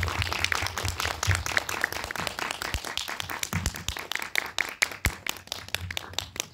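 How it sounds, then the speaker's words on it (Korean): An audience claps to welcome a film director onto the stage at an indie film talk event, a dense round of applause from a seated crowd, steady and lively throughout before thinning toward the end. "큰 박수 부탁드리겠습니다"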